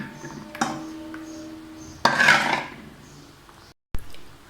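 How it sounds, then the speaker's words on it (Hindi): Metal utensils knock and scrape against a kulfi mould, with a sharp clank early, a louder clattering burst in the middle and a final knock, close by and without talk. "अब मैं इसका बैटर इसके अंदर डालूँगी।"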